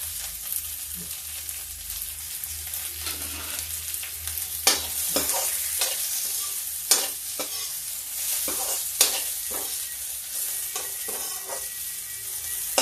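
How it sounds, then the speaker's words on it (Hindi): Onion and ginger sizzle in hot oil in a pan while a spoon stirs and scrapes, sharp clinks and scrapes punctuating the steady frying hiss up close. "अब देखिए इसमें प्याज डाल दो, प्याज डाल दिया और थोड़ा सा अदरक भी डाल दिया।"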